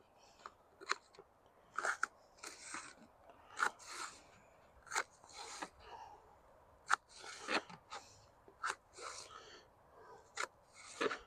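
A knife dices an onion on a cutting board while a camping breakfast is made, with a run of sharp, irregular chopping taps and crunches spread across the clip, close and moderately quiet.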